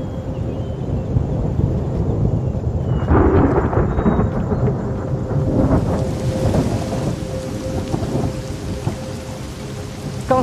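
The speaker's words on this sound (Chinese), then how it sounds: "怎么突然下这么大的雨啊？" Sudden heavy rain pours down continuously and loud, hammering on surfaces, with rolling thunder swelling around the middle and no voices.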